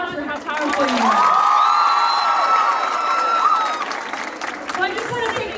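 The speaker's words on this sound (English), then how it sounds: "Now give yourselves a round of applause for how powerful you are." Applause and cheering from a crowd of schoolchildren in Africa, with loud whoops and shouted voices rising over continuous clapping that swells and then eases.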